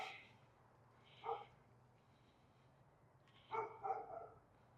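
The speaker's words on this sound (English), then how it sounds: "That is one distressed dog right there. Like, what are you barking at?" A dog barks at a distance, one short bark followed after a pause by a quick cluster of two or three more, faint over a quiet low hum.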